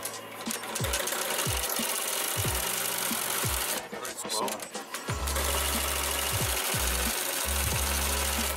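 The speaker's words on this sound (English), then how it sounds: "let's embroider the Melco logo on this pocket" A Melco EMT16X embroidery machine stitches a logo onto a garment pocket, running as a loud, steady mechanical whir with rapid needle thumps, a short lull partway through and then a return to full speed.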